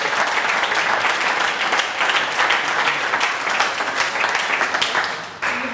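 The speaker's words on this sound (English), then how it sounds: "so big round of applause." An audience gives loud, dense applause after an app demo presentation, with steady clapping throughout that fades slightly at the end.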